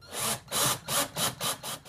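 Screws being backed out and driven through the front of a RainMachine HD-12 irrigation controller mount, a power driver whirring in five or six close, evenly spaced bursts with brief pauses between them.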